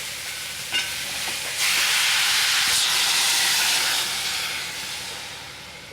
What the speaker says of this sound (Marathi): आणि एक ग्लास पाणी